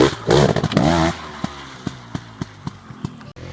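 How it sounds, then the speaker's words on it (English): A KTM Freeride 250R trials motorcycle revs briefly nearby with a buzzy, rising engine note, then settles into a quieter run marked by a regular series of light ticking knocks. "here comes Gary Lawver, National Trials Champ on the Freeride 250"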